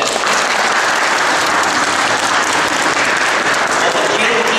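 Audience applause at a school banner consecration ceremony in a primary school hall, dense and loud continuous clapping from a large crowd sustained throughout.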